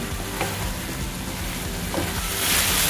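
Prawns frying in spiced oil for a lemon coriander dish, a steady dense sizzle close by with a few soft stirring scrapes, swelling louder near the end, no talking.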